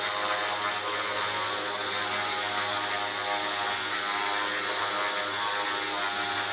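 A WL Toys V950 RC helicopter flies close by with a steady, loud high-pitched motor whine and rotor buzz, holding constant without pauses and not at full throttle.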